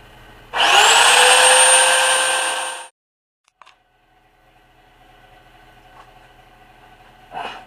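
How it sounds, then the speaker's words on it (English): A belt sander works on a wooden armrest support, whirring loudly for about two seconds before cutting off, followed by quiet workshop sounds, a faint hum and a couple of small knocks. "So I'm gonna go back to my belt sander."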